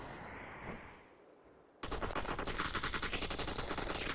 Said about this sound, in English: Lauren from afar with that AK